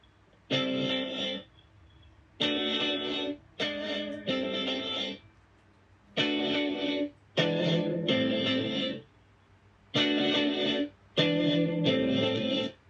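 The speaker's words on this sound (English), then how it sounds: "it started off with this loop, this guitar loop here" A distorted electric guitar riff repeats in looped bursts of chords, with short gaps between phrases and a steady rhythmic pattern.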